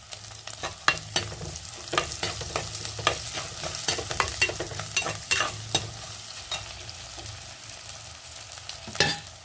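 Green chillies and curry leaves stirred in a hot pan for an Alappuzha-style fish curry: scraping spoon strokes and light sizzling of frying, close and moderately quiet, with no talking.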